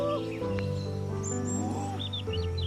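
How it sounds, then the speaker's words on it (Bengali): An outdoor picnic spot at a sunset viewpoint, with a koel's short bird calls sounding from a distance over a steady low hum of background noise. "ওই কোকিল ডাকছে, কোকিলের আওয়াজ শুনতে পাচ্ছেন,"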